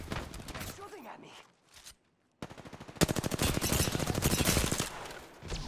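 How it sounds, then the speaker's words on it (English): Rapid automatic gunfire from an Apex Legends match rattles in bursts, with one short burst early and a longer sustained volley later, mixed with game sounds and a player's voice talking over it. "They're shooting at me."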